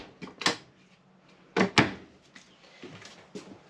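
Drawers in a 2024 Airstream Flying Cloud 30FB travel trailer kitchen slide and shut with a few soft thuds and knocks, a couple of clustered bumps near the start and middle, close and fairly quiet.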